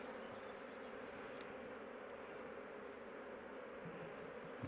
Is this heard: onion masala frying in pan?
no